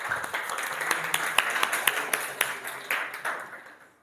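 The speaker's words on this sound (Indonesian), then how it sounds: "Give a big applause to your friends." A classroom of students clapping for their classmates, a short burst of brisk scattered claps that tapers off toward the end.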